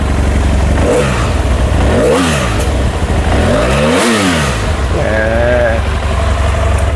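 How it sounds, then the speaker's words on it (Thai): The engine of a 2015 BMW F800GT motorcycle idles with a steady rumble and is revved up and back down several times in quick rising and falling surges. "เดี๋ยวมาเร่งเครื่องให้ฟังนะ"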